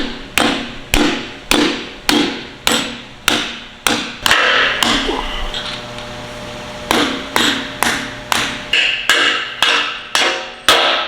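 A hammer drives studs in a workshop with loud, sharp, evenly spaced blows, about two a second, and each strike rings briefly. The blows stop for about a second midway, then resume at the same pace.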